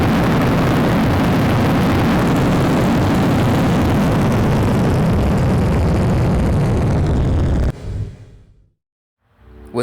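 A lander's retro rockets fire a deorbit burn above Oord in the video game Juno: New Origins, giving a loud, steady, broadband engine roar that cuts off abruptly near the end, leaving a brief low rumble and near silence.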